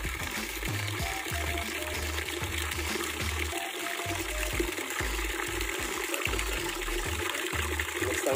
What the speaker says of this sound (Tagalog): So, lagyan natin ang tubig.